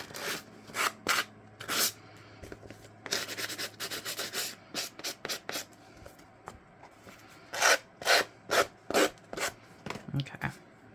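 A tiny craft piece being sanded by hand, with quick scratchy rubbing strokes in short bursts and clusters separated by pauses, close and fairly quiet.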